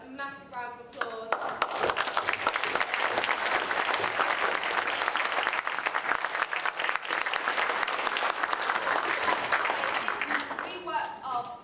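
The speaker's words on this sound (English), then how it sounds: "I think my group deserves a massive round of applause." A student crowd gives loud, sustained applause for a group's urban planning model presentation, dense clapping running for about ten seconds, with a speaking voice briefly heard before and after it.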